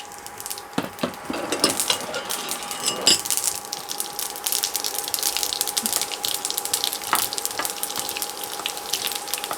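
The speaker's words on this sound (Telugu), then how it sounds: "ఆవాలు చిటపట్లాడిన తర్వాత" Mustard seeds and tempering spices spluttering in hot oil for lemon rice, a dense, steady crackle of small pops close by with a few sharper bursts, no talk.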